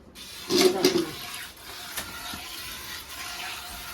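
A cow urinates during hand milking in a village, a short, splashy burst of liquid hitting the ground that soon trails off into quieter background noise.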